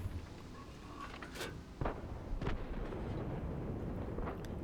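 Artillery fire in the World of Tanks video game: a few distant booming shots and sharp cracks go off irregularly over a low rumbling battlefield background, with no voices over them.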